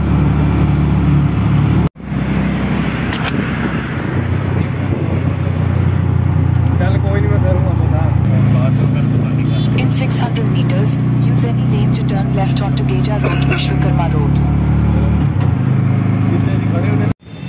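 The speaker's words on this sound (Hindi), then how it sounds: "आज ऑटो में से बैठे हैं और दिल्ली में घूम रहे हैं" Ride in an auto rickshaw through Delhi traffic, a steady close engine drone with rumble and rattling under near-constant talk, broken by a brief cut near the start.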